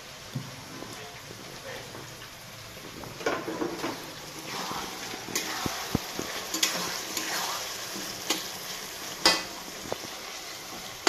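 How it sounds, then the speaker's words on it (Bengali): Onions fry in hot oil in a home kitchen, giving a steady soft sizzle with scraping stirs and occasional clinks, while someone talks faintly in the background. "তেলের মধ্যে পেঁয়াজটা ভাজছি"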